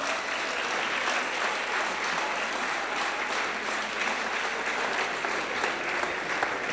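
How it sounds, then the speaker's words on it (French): Steady, loud applause from an awards-event audience welcoming a special guest on stage, many hands clapping in a continuous dense roar with no talk over it. "sous un tonnerre d'applaudissements, s'il vous plaît"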